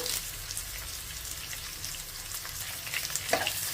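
Chopped onion pieces with a little curry leaf fry in hot oil in a pan, a dense continuous sizzle with occasional stirring scrapes, close and steady, no talk.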